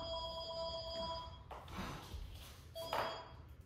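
A telephone rings with a steady electronic tone during a workout class, pauses, then rings again near the end, with muffled room noise and a brief knock in between.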